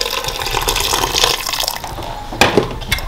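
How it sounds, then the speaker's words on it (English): Boiling hot water pours steadily into a cooking pot holding feet, a continuous splashing gush close by with a brief heavier splash near the end. "I'm adding some boiling hot water and bring it to a boil for 5 to 10 minutes"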